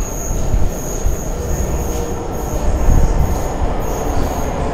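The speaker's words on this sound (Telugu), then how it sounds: "ఇప్పుడు మనం ఎక్కాల్సిన మెట్రో కూడా ఆల్మోస్ట్ వస్తుంది చూడండి." An underground metro train pulls into a Delhi station with a loud, steady rumble of wagons and wheels, a thin high squeal running above the roar, all close and filling the platform without any voices.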